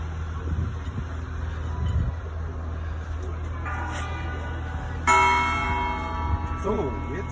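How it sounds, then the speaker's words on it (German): The newly cast St. Michael's church bell struck on the ground before being hoisted into its tower, one loud ringing strike that sustains and decays slowly, with an earlier fainter tone and outdoor wind and background noise around it. "jetzt wird die Glocke noch angeschlagen, bevor sie auf den Turm kommt"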